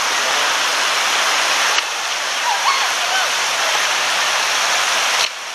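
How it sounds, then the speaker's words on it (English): A small river flowing through Indian Springs State Park gives a constant, close rushing hiss of moving water, steady throughout with a slight dip in level partway and near the end. "This is the river that runs along the state park, or through it."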